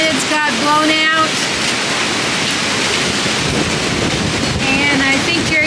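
Strong wind of about 30 miles per hour blows outdoors and roars steadily as loud broadband rushing noise against the microphone, with faint calls or tones briefly audible at the start and near the end.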